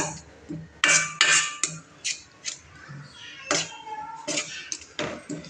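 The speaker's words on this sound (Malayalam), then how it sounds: "ഒന്ന് ലോ ഫ്ലെയിമിൽ വെച്ച് നന്നായി ഇളക്കുക." A spoon stirs and scrapes masala with tomato sauce in a metal pan over a low flame while making masala pasta, giving repeated close clinking and scraping strokes in an irregular rhythm, with no talking.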